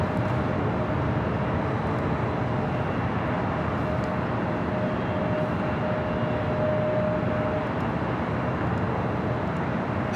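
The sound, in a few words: Boeing 767-300ER airliner landing at LAX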